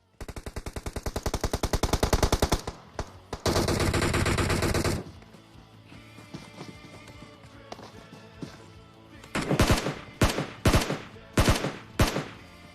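Rapid automatic gunfire in a tournament video game match, long fast bursts early on, then a quieter stretch and several separate loud shots toward the end, with commentary underneath.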